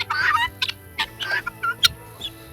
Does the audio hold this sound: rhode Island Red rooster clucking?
yes